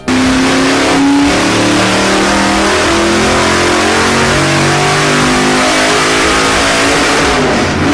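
A 627-horsepower hot rod engine with individual coils revs hard and loud and close up, its snappy, rising and falling roar carrying on without a break and with no talk over it.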